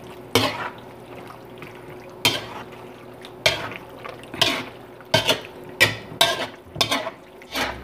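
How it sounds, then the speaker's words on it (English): Igado, an Ilocano liver dish, is stirred in a cooking pot, with about ten distinct scraping, sloshing strokes coming in an uneven rhythm, close and fairly loud against a quiet simmering background. "let's give this one a good mix"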